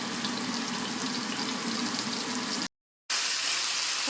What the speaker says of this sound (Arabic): وفي هذه المقلاية راح أسخن زيت عشان أشوي الدجاج